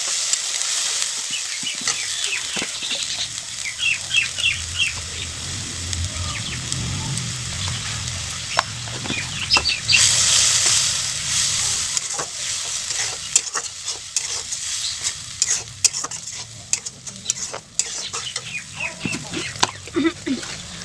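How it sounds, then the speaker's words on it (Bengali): Ginger, garlic and chili paste masala fries and sizzles steadily in a pan while a spoon scrapes and stirs it in repeated strokes, with a few faint clucking sounds in the background. "এখন আমি আদা রসুন লঙ্কা বাটাটা দিয়ে দিলে দিয়ে মশলাটা কষিয়ে নেব।"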